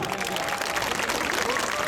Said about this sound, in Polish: Proszę o ogromne brawa dla policjantów.